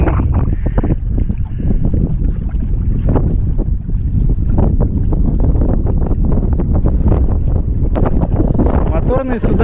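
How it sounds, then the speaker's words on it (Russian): Strong wind buffets the microphone in rough, continuous gusts aboard a sailing catamaran, with a voice speaking under the roar and a sharp rustle near the end. "ветер поднялся"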